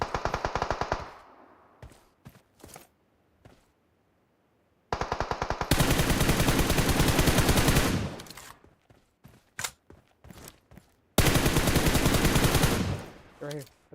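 Gunfire in the mobile battle-royale game PUBG Mobile, with bursts of rapid automatic fire and long sustained volleys broken by short pauses and scattered single shots, loud and near.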